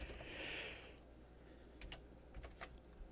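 Typing on a computer keyboard indoors, a short burst of quiet clicks after a brief hiss, then scattered individual keystrokes spaced irregularly, close and soft.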